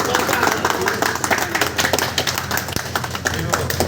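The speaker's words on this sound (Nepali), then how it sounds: "ताली ताली ताली बजाउनुहोस् है" Applause at a farewell gathering in a hotel: a crowd claps steadily and loudly for several seconds, with a voice calling out over the clapping.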